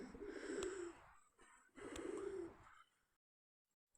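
Pigeons coo near a pigeon coop, with two soft, close calls in a row before the sound fades into silence.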